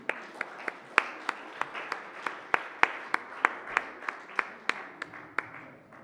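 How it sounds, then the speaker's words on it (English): A small audience applauds to welcome a literary panel to the podium, with steady, fairly sparse claps that keep a regular rhythm throughout and no talking. "May I please welcome all our participants to the podium with a loud round of applause"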